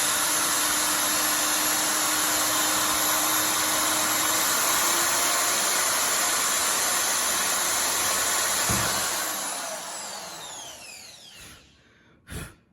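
A hammer drill whines steadily at high speed while boring a hole through plastic, its tone holding for several seconds before spinning down and stopping, followed by a brief knock.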